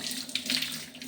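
Water runs steadily from a tap into a sink while hands are washed, a close, continuous splashing hiss with small irregular surges and no talk.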